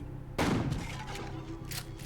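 One sudden, booming shotgun blast in the video game Buckshot Roulette, with a short echoing tail, followed by low background noise.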